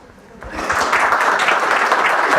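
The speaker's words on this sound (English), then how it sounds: "let's please have some warm applause for the brain guy" An audience at a talk breaks into applause that swells within the first half second and holds as a dense, steady clapping roar.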